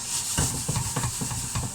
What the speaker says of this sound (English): I'm going to finish off frying the second batch of this mince